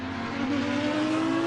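Lamborghini and Audi race cars sweep past on the circuit at Mount Panorama during a 12-hour race, a steady loud engine drone with a rising pitch as they approach and pass close by.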